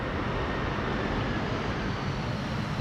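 Airliner engines roaring in reverse thrust after landing on the Polderbaan runway at Amsterdam Schiphol, a steady broad rumbling roar heard from outdoors at a distance with wind.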